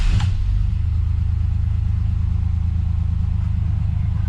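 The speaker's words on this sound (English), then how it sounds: "Turn the truck on." Chevy S10 truck engine catching with a brief burst at the start, then settling into a steady, low idle rumble, close and loud throughout.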